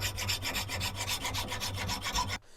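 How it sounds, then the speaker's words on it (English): A hand file scrapes decarb off a steel knife edge held in a vise, about a dozen quick, even, rasping strokes close up, stopping abruptly near the end. "We're just going to be using a normal file to remove some of this decarb."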